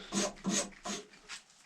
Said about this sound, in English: I'm going to take a rasp and I'm going to round up the corners